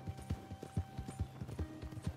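Horse hooves clip-clop at a steady gallop in Red Dead Redemption II, about a dozen close, even hoofbeats rising from a low game soundtrack hum.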